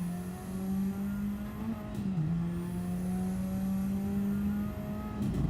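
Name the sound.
race car engine accelerating on a lap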